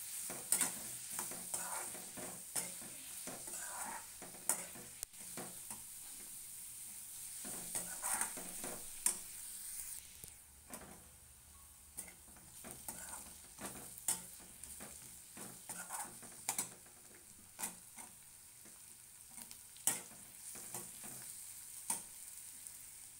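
Onions with turmeric sautéing in a pan while kandepohe is being made: a soft, steady sizzle runs throughout, broken by frequent scraping stirs of a spoon against the pan.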